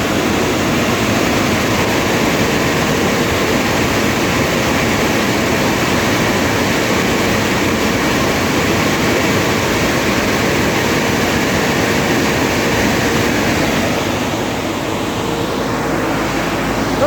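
The motor of a mobile grain dryer drying corn runs without pause, a steady, loud mechanical drone and broad noisy roar, easing slightly near the end.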